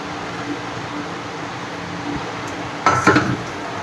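Frozen young jackfruit with spices is stir-fried in a pot, cooked with prawns in a traditional village style; a brief burst of metal utensil clatter against the pot rises over a low, steady room hum.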